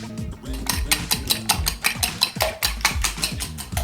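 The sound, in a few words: beating three eggs in a bowl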